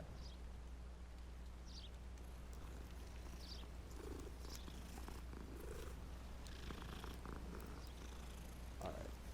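A cat in the Hogwarts Legacy video game purrs in a low, continuous, rhythmic rumble, steady and fairly soft, with faint scattered game sounds above it.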